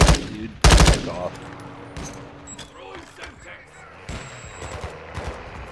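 Gunfire bursts out in Modern Warfare 2 Invasion multiplayer on Xbox Series X: a loud close volley early on, then scattered shots and clattering mechanical sounds. Voices shout over the shooting.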